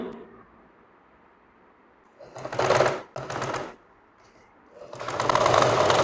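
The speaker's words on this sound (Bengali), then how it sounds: "আমি এক চাপ তফাত রেখে বন্ধুগণ সেলাইটা দিচ্ছি" Sewing machine stitching the back panel of a shirt in two short rapid bursts with a brief pause between, then starting up again for a longer run, loud and close with no talking.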